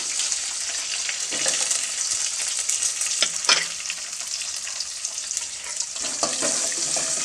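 Chopped onion and garlic frying in a pan over a medium gas flame. A steady, bright hiss of sizzling oil is broken by a few sharp stirring clinks and scrapes, with no voices.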